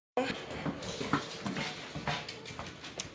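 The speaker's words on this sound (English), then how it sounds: "Hear my dog follow." A dog following along through a Minnesota vegetable garden, panting rhythmically close by with soft movement sounds throughout.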